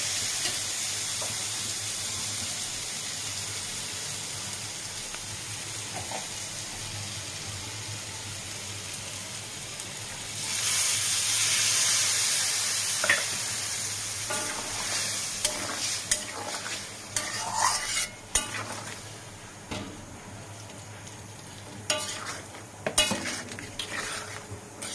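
Fried potatoes being stirred with poppy seed paste and green chillies in a pan, a steady sizzle under repeated scraping and clinking of a spatula against metal, louder bursts midway, no talking.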